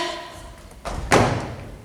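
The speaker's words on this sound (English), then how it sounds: "There's a door, yes" A door during a live theatre performance gives a short thud followed by a sharper, louder knock, both close and brief against a quiet room.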